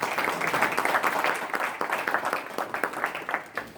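An audience at a live UX design event bursts into a round of applause, dense clapping that stays steady for a few seconds before thinning out with scattered louder claps near the end.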